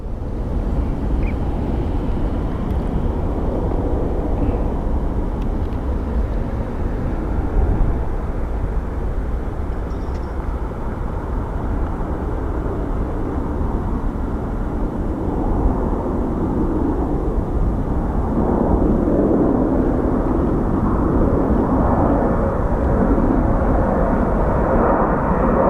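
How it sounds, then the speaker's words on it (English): A Horizon Air Embraer 175 jet airliner departs Phoenix Sky Harbor International Airport, producing a steady, broad roar that stays fairly even and distant throughout, with no talking. "We have an Embraer 175 headed to San Francisco, operated by Horizon Air."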